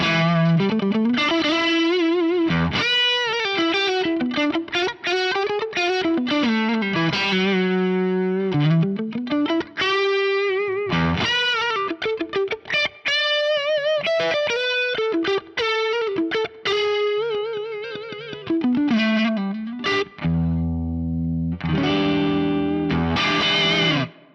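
Overdriven electric guitar through an Axe-Fx III amp modeler, drive up and presence down, with a gritty, distorted tone plays a continuous melodic riff with sliding notes, then ends on heavier low chords.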